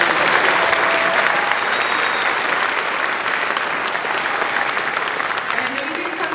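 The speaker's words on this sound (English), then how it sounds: "let's give a big round of applause for them" A large audience gives sustained applause for a CMEA Capitol Section honor choir's choral music team, a broad, even wash of many clapping hands with a faint crowd murmur beneath, holding steady and easing slightly toward the end.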